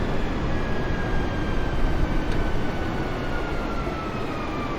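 Airbus A320 engines spooling down as the throttles come back near 18,000 feet in Microsoft Flight Simulator 2020, a steady loud broadband cabin roar with a faint falling whine running throughout.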